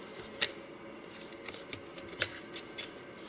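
A plastic scraper prying a stick-on weight off a wheel rim on a John Bean BFH1000 balancer, giving a few sharp, brief scrapes and clicks spread across an otherwise quiet stretch.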